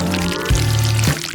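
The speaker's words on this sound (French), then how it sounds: "je vais mettre de la sauce au-dessus des nouilles" Sauce pours over noodles in a short, close liquid stream, splashing steadily with a brief break and restart partway through.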